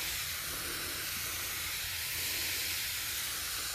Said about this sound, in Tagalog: Yan, spray lang natin dyan sa mga gilid-gilid na yan